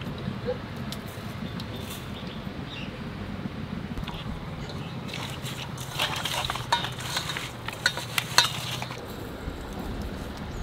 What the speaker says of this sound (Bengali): মাছটা একটু কড়া ভাজা দেবো